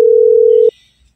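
A telephone dial tone sounds as a call is being placed, one steady loud tone held for about 0.7 seconds. It cuts off abruptly, and near-silence follows.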